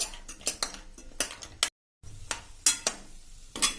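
Almonds and pistachios roasting in ghee in a pan over a medium flame, with repeated spoon scrapes and clinks against the pan in an irregular rhythm, a brief gap partway through, and a faint sizzle beneath.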